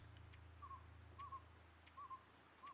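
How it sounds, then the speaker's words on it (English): An owl hoots in a video game, a few soft, brief two-note calls spaced about every half second to second, faint over a low steady ambient hum. "Oh, I hear owl."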